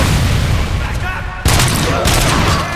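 Loud, dense gunfire fills the RoboCop: Rogue City video game scene, with rapid overlapping bursts and booms running almost continuously and a brief sharp break midway before another volley.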